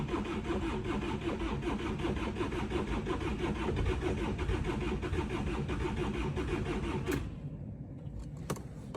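A Hyundai Sonata Embera with a breakdown cranks with a rapid, rattling starter whir for about seven seconds, then cuts out abruptly into near quiet with a couple of sharp clicks.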